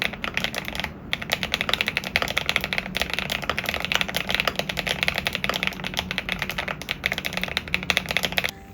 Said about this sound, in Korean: 제가 지금 이 키보드를 메인으로 쓰고 있는데 이 키보드가 소리가 진짜 좋아요.